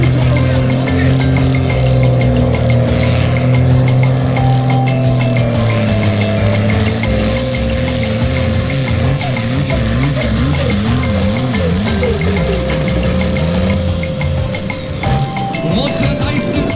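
New Holland TVT 119 pulling tractor at a tractor pulling event, its engine droning loud and steady with a rising and falling pitch as it works, set against crowd and arena noise.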